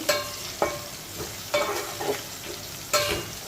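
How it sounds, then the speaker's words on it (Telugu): Curry leaves and dried red chillies sizzle and crackle in hot oil while a spoon stirs and scrapes the pan in short, repeated strokes. "తాలింపుకి సమానం వేసుకున్నామండి కరివేపాకు ఎండుమిరపకాయలునండి"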